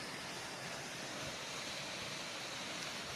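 A small mountain waterfall on the trail to the Morskie Oko lake rushes in a steady, even hiss. It sounds fairly soft and continuous, with no talk over it.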